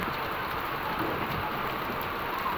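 Heavy rain pours down in a steady, dense hiss, loud and unbroken throughout, with no voices.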